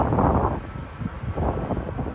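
Strong gusty wind buffets the microphone at Sydney Airport, a continuous roaring rush that swells and eases, with no voices.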